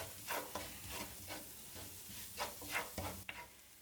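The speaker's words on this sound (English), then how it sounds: "Give it a quick stir, and then add the paprika. Mix it all together." A spoon stirs paprika into a goulash pot of frying onions and beef fat, quiet rhythmic scrapes repeating about every half second over a soft sizzle, close and faint.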